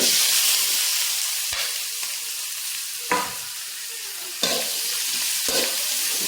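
Mustard seeds and spices sauté in hot oil for a beef curry, a steady hiss and sizzle with a few sharp stirring knocks spaced through it.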